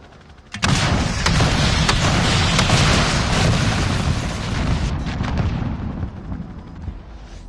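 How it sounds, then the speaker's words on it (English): A cruise missile strike detonates in Call of Duty: Modern Warfare, opening with a sharp blast followed by a loud, sustained rumbling roar of explosions and debris that fades slowly over several seconds, with no talk. "And I still had my my cruise missile to go."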